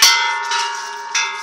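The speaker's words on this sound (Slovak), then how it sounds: "Dobrý si ty zvonár." A bell rings with a bright metallic strike, then two more strikes follow, each leaving a sustained, slowly decaying ringing tone, close and loud with no talk.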